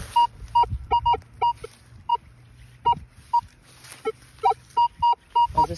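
Target tones from a Minelab Manticore metal detector, a rapid series of short, clear beeps in irregular bursts, some higher-pitched, over faint outdoor hum.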